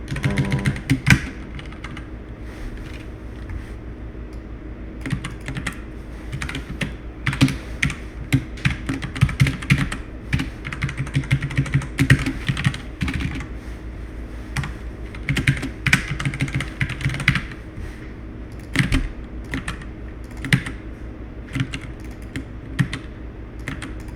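Someone types fast on a computer keyboard, producing close, continuous key clicks with occasional louder keystrokes.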